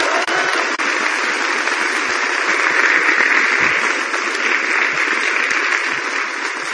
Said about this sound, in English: how about a great round of applause for my friend